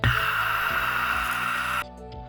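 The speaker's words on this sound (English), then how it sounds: "Push the pen downward continuously for just 2 seconds and listen for a hissing sound indicating" Compound W NitroFreeze wart-freezing pen being activated, a steady pressurized hiss of gas lasting about two seconds before cutting off abruptly, close and alone over a faint musical background.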